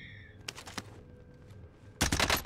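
Gunfire in the video game Call of Duty Warzone: a short burst of shots near the start, then a quiet gap, then a louder burst of rapid shots at the end.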